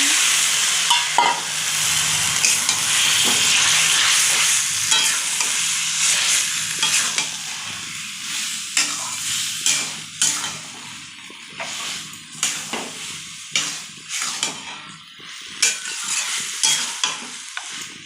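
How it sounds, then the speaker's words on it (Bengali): Mutton sizzles loudly in hot oil with spices in a wok, and a spatula scrapes and stirs in repeated strokes, close up, the frying hiss steady underneath. "মশলা বসানো হয়ে গেছে এখন দিয়ে দেবো মটন"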